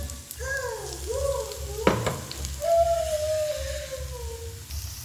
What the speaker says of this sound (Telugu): ఈ ఆయిల్లోకి మనం కట్ చేసుకొని పెట్టుకున్న ఉల్లిపాయలు, పచ్చిమిర్చి, కరివేపాకు అయితే వేసుకుందాం.